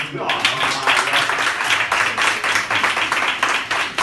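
Lively applause and clapping at a radio workshop, loud and close with rhythmic bursts of hand claps throughout, a voice faintly mixed in.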